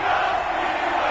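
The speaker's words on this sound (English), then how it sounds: "This crowd is ready as their guys get set to match up between the Minnesota Vikings and the Pittsburgh Steelers." A stadium crowd at a Minnesota Vikings versus Pittsburgh Steelers NFL game roars in a continuous, dense wash of cheering from many distant voices.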